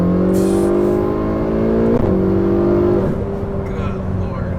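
A modified, turbocharged Ferrari, 458 or 488, accelerates hard with a loud climbing engine note, twice dropping in pitch at quick gear shifts before pulling again, with people talking over it inside the car.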